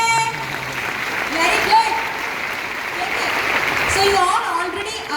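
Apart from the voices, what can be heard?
audience applause, clapping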